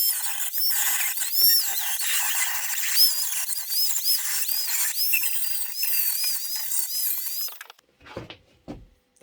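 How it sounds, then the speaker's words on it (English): A Dremel rotary tool grinds the metal body of a crash-damaged Ford Escort Mk1, a steady high-pitched whine that dips and rises with contact before cutting out, followed by a few clunks. "Okay, first job, Dremel this out and tidy this up."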